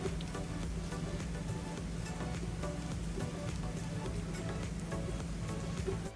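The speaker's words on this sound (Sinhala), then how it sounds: "තාම හයියෙන් වහිනවා" Heavy rain falls outside a room at a lake resort, a dense, even hiss that keeps a constant level throughout with no voices over it.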